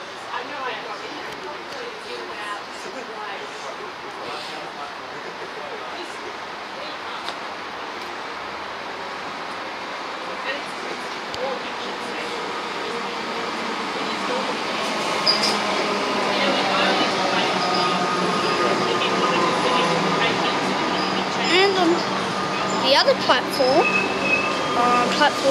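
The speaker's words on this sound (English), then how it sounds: "Here comes the City Loop train" A City Loop commuter train rumbles into Richmond station and grows gradually louder as it arrives, with squeals and clatter near the end and people talking over it.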